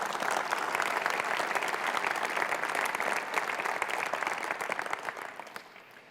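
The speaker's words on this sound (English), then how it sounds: "So please, too, give them a round of applause for all their work." A large conference hall audience gives sustained applause for government ministers, a dense, even wash of many hands clapping at a distance that holds steady and then starts to fade near the end.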